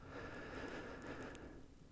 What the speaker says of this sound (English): That noise you heard in the background is actually Pearl snoring right now.